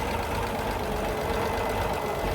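A 1976 Toyota FJ40 Land Cruiser engine idles cold, heard up close under the open bonnet as a steady, even, dense mechanical rumble with no change in pace.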